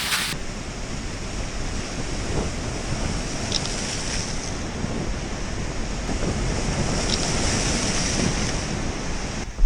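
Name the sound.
sea waves splashing near the hotel in Paphos, Cyprus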